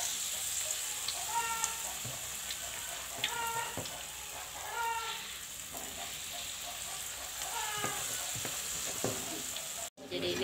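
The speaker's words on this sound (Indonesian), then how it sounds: "jadi kita menggoreng bakwan sisa kemarin ini" Leftover bakwan vegetable fritters made from refrigerated batter fry in a pan with a steady sizzle and bubbling, broken by scattered utensil clatter and scraping; roosters crow faintly in the distance.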